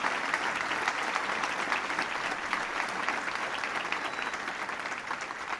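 Audience at a speech by Obama during a visit to DreamWorks Animation breaks into steady, dense applause with some cheering, a continuous wash of clapping that holds evenly throughout.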